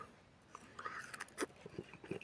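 Crisp bites into a Flavor King pluot give a few short, quiet crunches at close range, followed by soft chewing, with no talking.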